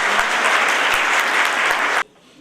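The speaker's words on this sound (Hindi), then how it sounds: "तालियों के साथ" Audience at a college ceremony claps loudly and densely for a couple of seconds, then the applause cuts off abruptly into near silence.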